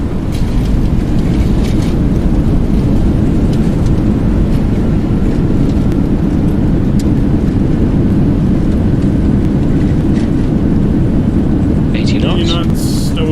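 A Boeing 737-800 roars steadily with its thrust reversers deployed on landing in X-Plane 11. The dense, loud engine rush holds constant throughout, with a brief higher rattle near the end.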